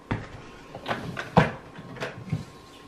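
A drawer being handled close by, with several short knocks and wooden slides as it opens and its contents shift.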